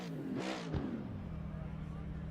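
A V8 race car engine in the game Assetto Corsa Competizione drones steadily with harmonic tones, a brief rising rev near the start, then a sustained idle-like hum with a voice faintly underneath.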